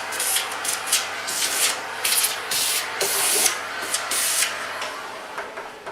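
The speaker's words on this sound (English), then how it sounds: "And we have 4 picks, rough cut, ready to be cleaned up with a bit of sandpaper." Sandpaper rubs back and forth over rough-cut flamed maple guitar picks in a steady, close scratching rasp with uneven strokes and no voices.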